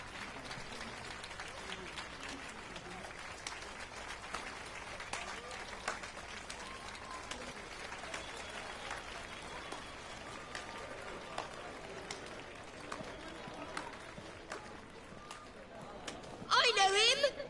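A crowd claps and cheers in Witcher 3: Wild Hunt, scattered applause ringing out under a narrator's ongoing voice, with a louder burst near the end.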